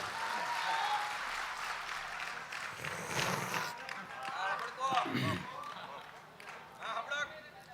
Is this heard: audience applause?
yes